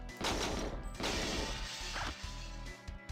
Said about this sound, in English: When you put on body armor, that noise is just like a nostalgia noise.